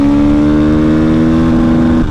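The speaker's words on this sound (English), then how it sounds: "You're just wanting to let it rev out, rev back down." A brand-new motorcycle engine, run hard during break-in, revs high with a steady tonal whine that holds, then starts to drop at the end, loud and close with no talk.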